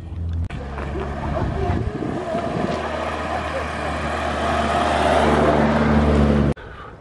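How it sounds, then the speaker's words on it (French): A vintage rally car in an old-car rally on Gran Canaria approaches and passes with a loud, sustained engine roar that builds toward the end, then cuts off abruptly. "Le bruit que vous avez attendu, c'est des voitures de rallye. Il y a un rallye de vieilles voitures."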